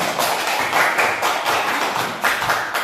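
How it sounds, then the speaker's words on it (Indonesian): Children in a classroom clap together for a class of fourth graders, a dense, steady patter of many small hands lasting a few seconds, fairly close and with no talk over it. "Tepuk tangan buat kelas 4"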